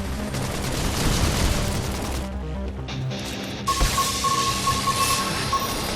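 Heavy, dense gunfire and blasts roar through a Xenoblade Chronicles X battle, a loud sustained barrage that briefly drops away before crashing back in with a high tone ringing over it.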